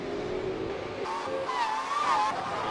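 A Super2 touring race car at the Hamilton round brakes hard into a turn, engine note dropping and whining as it downshifts, then a high tire squeal rises and falls under steady engine noise.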